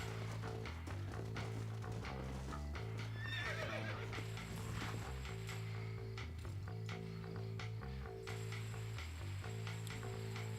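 A horse in the Red Dead Redemption 2 video game whinnies while steady clip-clop hoofbeats run throughout, over a constant game soundscape with no talking.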